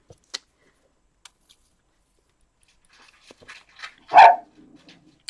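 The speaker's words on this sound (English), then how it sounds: "Silly bark alert." A single dog gives one short, sharp bark indoors, close to the mic, after a few faint clicks and soft rustles in an otherwise quiet room.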